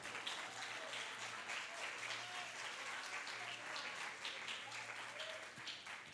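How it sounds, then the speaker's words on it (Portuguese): A church congregation applauds during a celebration service: a steady, fairly faint wash of clapping that runs unbroken for several seconds, with a low hum beneath it. "pode aplaudir o Senhor."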